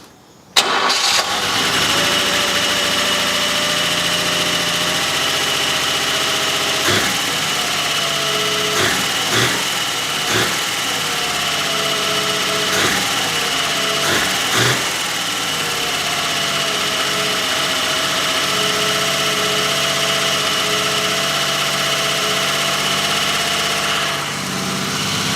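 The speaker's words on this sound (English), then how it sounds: "just remove the drive belt and I'm going to fire the engine up again" A car engine with its drive belt removed cranks and fires up, then settles into a steady idle that runs loud and close, with a few brief revs or knocks early on and no speech.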